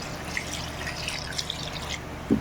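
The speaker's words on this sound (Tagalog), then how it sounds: "nilagyan ko na po siya ng tubig" Water is poured into a cooking pot for mussel soup, a continuous trickling and splashing with small drips throughout and a louder splash near the end, with no voices.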